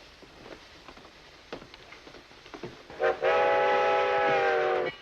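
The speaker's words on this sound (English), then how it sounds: "Always is when the train comes in." A train pulls into a station: faint clanks and rumbles, then a loud sustained steam whistle blows for nearly two seconds before cutting off.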